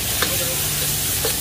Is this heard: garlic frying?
yes